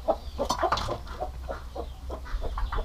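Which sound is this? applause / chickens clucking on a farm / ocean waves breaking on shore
chickens clucking on a farm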